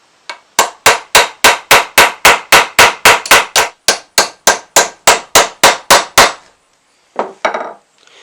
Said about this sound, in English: then we're just going to take a little chisel and then just chisel that out